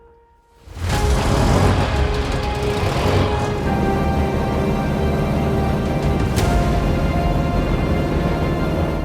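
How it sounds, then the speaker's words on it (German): A restored 1924 Mercedes Targa Florio supercharged race car engine starts up and runs loudly and steadily, a rich, dense roar that stays close and constant. "Compressor engine back then, 100 years ago. I mean, the sound is amazing."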